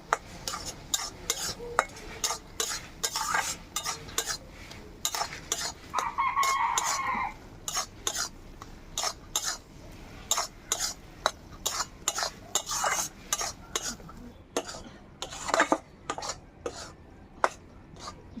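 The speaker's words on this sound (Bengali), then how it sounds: "ভালো করে নাড়াচাড়া করে নেব।" Semolina sweet stirred in a pan, rhythmic spoon scrapes and taps against the metal repeating steadily, with a rooster crowing briefly in the background.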